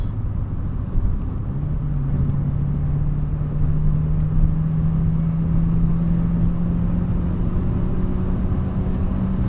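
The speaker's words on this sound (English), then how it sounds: "we'll give it a little bit of revs" A 1988 Honda Accord LX-i with a five-speed manual gearbox idles with a steady low engine rumble and hum, then rises slightly into a gentle, sustained rev, heard from inside the car.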